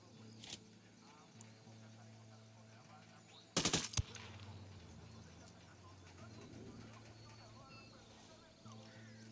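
Suppressed rifle gunfire in the game Ghost Recon, a dirty suppressor making the shots louder: a single crack early, then a quick burst of sharp snaps, over quiet ambience with soft bird-like calls.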